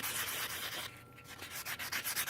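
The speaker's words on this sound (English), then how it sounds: "I'm going to take those same components, those dangles, and I'm just going to sand a bunch up" Small metal jewelry dangles are sanded by hand, a close, steady abrasive rubbing made of quick back-and-forth strokes with one brief pause, and no voices.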